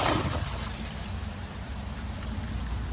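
Glacier Bay dual flush toilet flushing water balloons and a balled-up grocery bag, a short rushing swirl of water with a strong low rumble, loudest at the start and then running steadily.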